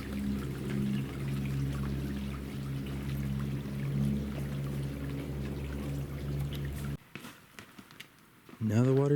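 Sudden flow of water rushing through a Red Rock Canyon trail, a steady pouring roar close by for most of the stretch before cutting off abruptly, followed by quieter rustling and a brief voice-like sound at the end.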